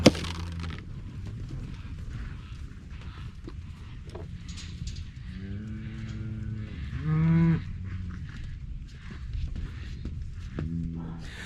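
A herd of cattle bellows inside a crowded corral, with several drawn-out moos overlapping in the middle and another near the end. The calls sound fairly close over a steady background of shuffling and rustling from the pen.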